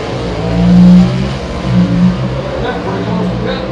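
Dodge Hemi drag race cars, 2022 Hemi Shootout, roaring down the strip as one car slides sideways, a loud engine rumble swelling and easing in waves under an excited commentator's voice.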